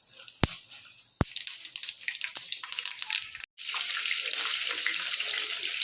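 Black mustard seeds drop into hot oil in a pan, tempering for a green chilli and garlic pickle. A couple of sharp knocks come first, then a loud, steady, close sizzling hiss takes over.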